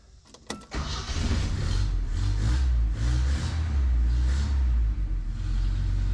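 An engine in a vintage Datsun 521 pickup cranks and catches, then revs loudly and steadily through a couple of throttle pumps, close and continuous with no talk.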